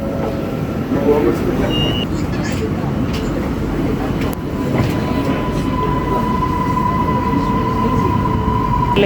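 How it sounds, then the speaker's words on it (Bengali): A metro train ride in Malaysia: a steady, loud rolling rumble and hum fills the carriage throughout, with faint voices in the background. "এই ট্রেন থেকে নেমে পাশেই রয়েছে আরেকটি ট্রেন ওটার মধ্যে আমরা সবাই মিলে উঠে পড়লাম"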